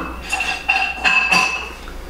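A metal half-teaspoon cookie scoop clinks and taps against other utensils as it is handled, giving several light, close metallic chinks over a soft background.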